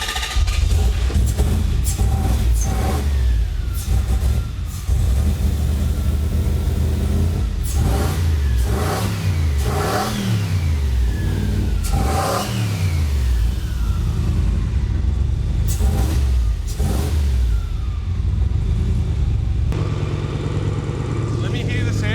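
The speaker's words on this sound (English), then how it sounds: "Just wanted to rev my engine, dude." Turbocharged Toyota 1UZ V8 in an HQ Kingswood ute revving repeatedly, loud and close, with sharp rising and falling engine sweeps in bursts; voices talk over it.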